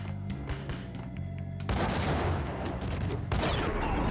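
Gunshots in the video game Max Payne, dense rapid shots and heavy booming blasts layered over game music, loud and continuous.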